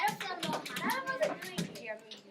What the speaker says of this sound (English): clap hands for red team